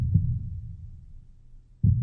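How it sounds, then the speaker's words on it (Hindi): A heartbeat sound effect from a Hindi audio horror story: deep, muffled low thumps, one near the start and another near the end, over a soft low hum. "दो पल के लिए उसकी धड़कन बहुत तेज हो गई।"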